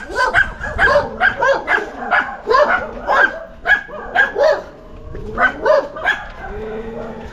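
Several dogs at a house bark in repeated short bursts, loud and close, with yips mixed in and a brief pause before the barking resumes.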